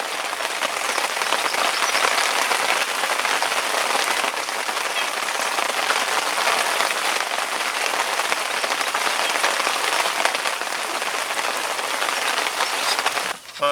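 Steady rain falls on a summer fishing trip at a carp lake, a loud, dense, even patter on surfaces that continues without a break and with no voices.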